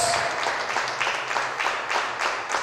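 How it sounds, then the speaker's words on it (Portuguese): Church congregation applauding during a worship service, a steady wash of many hands clapping throughout, fairly close and continuous with no talk over it. "aplauda o Senhor"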